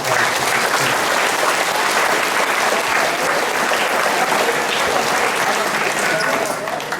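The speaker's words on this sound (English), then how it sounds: "So if we could give one more round of applause." A crowd at a track and field awards event applauds the coaches, a loud, continuous roar of clapping from many people that holds steady for about seven seconds.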